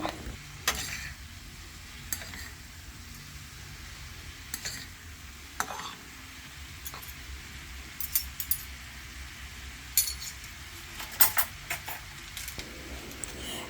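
Light stirring in a cooking pan of half-cooked home-style Filipino food, with sparse soft scrapes and taps of a utensil against the pan over a steady low background.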